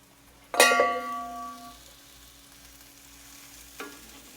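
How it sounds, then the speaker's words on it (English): Diced onion and banana pepper tops hitting a teaspoon of olive oil in a pan, a sharp close sizzle with a metallic clink that fades to a soft frying hiss, then a second brief clatter, no voices. "I just want to cook this until the onions become translucent"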